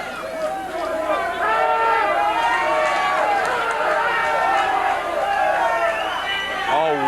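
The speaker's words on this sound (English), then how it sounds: "A wild and enthusiastic crowd here at George's in Fridley" Enthusiastic wrestling crowd at George's in Fridley during a PWA Championship match: steady loud crowd noise with cheering and many voices, while a commentator talks close over it.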